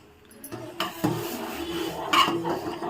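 Cardamom powder being stirred into milk in a pot while making kulfi, with intermittent scraping and clinking of a spoon against the metal pot, fairly quiet and close, with a brighter knock near the end.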